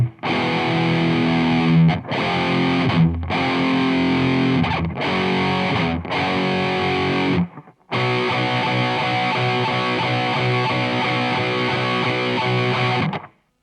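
Loud, heavily distorted electric guitar plays the riff of a song in sustained chugging chords, with short breaks near 2, 3, 5, 6 and 7.5 seconds, then a continuous passage to the end, with no talking.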